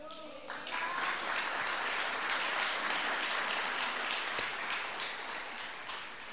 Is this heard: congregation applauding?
yes